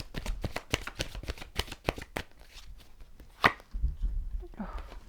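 Tarot cards are shuffled and drawn by hand: a quick run of crisp card snaps for about two seconds, then a few softer isolated flicks and slides as cards are pulled.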